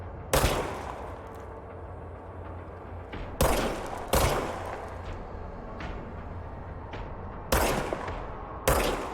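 Gunfire from the video game Control: several sharp, loud shots arrive in irregular bursts, each with a decaying tail, heard close up with no talking.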